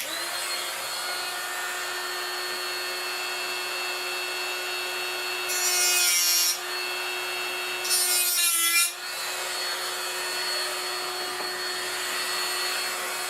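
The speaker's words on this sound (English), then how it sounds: "So with that, get my trusty Dremel and get to work on that." A Dremel rotary tool cutting a metal blade off a glove handle: a constant high motor whine, with two louder bursts of grinding as the cutting wheel bites into the metal.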